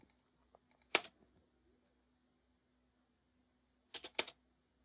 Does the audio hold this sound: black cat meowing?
no